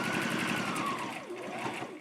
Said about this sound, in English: I'm going to sew a little rectangle and an X